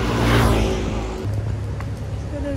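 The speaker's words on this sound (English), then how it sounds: "Ooh, this car's coming in fast." A car approaches fast at night near Qianshuiwan, the shallow water bay in Taipei; its engine rises in a loud rushing sweep that peaks early, then fades into a softer road hum.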